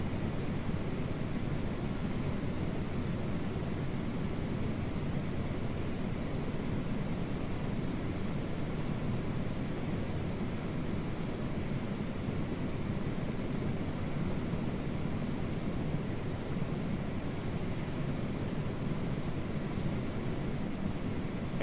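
Sky Crane helicopter engine in a flight game, a steady, heavy, beefy drone with a constant rumble and faint high whine, continuous and unchanging throughout, with no talk.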